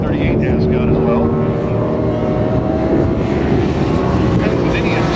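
Superbike racing motorcycles, among them a Yamaha, roar past at a 550 Superbike race, forming a steady, dense engine drone with a commentator's voice running over it.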